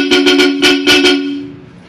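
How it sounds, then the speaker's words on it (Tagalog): Bosch car horns blare in a shop demonstration, several short loud honks in a quick rhythm with a strong steady tone, then the last blast fades out. "I-demo ko lang po yung aming bagong brand na busina. Bosch po yung brand."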